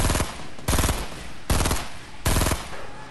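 Automatic rifle fire in the battle-royale video game Fortnite comes in four close, loud bursts of rapid shots, with short gaps between them and no voices.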